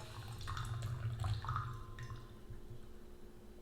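Water poured over yellow tea leaves for a quick rinse, a soft splashing trickle with faint drips, close and quiet, with no talking.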